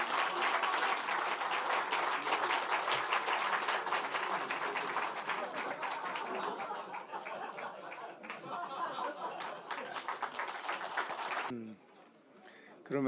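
Sustained crowd applause from an audience at a Democratic Party parliamentary gathering, honoring the National Assembly speaker and deputy speaker candidates after their speeches; dense, steady clapping over about eleven seconds, then it abruptly drops away.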